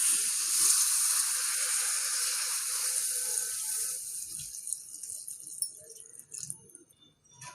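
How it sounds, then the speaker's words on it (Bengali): Water is poured from a container into a pan of soybean and potato curry, a steady bright splashing stream that thins and trickles off over several seconds, close and fairly quiet. "এর মধ্যে আমি পানি দিয়ে দেবো।"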